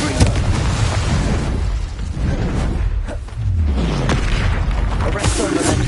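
Fire spell explosions from Hogwarts Legacy, the video game, with booming blasts and whooshing bursts repeating through loud, dense combat sound with no pauses.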